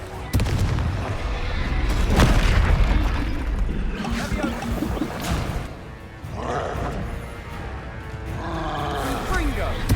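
Repeated Confringo fire blasts erupt in Hogwarts Legacy amid a chaotic battle, loud booming impacts layered with roaring creature noise and a continuous dense rumble throughout.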